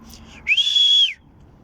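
A single sharp, sustained human whistle calling a dog, rising briefly then holding a steady high note for about half a second, loud and close.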